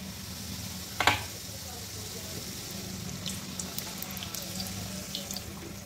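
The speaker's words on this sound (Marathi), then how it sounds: "आता पुऱ्या आपण तळून घेऊया" Puris sizzling in hot oil over a medium gas flame, a steady close hiss with one sharp clatter near the start and small crackles throughout.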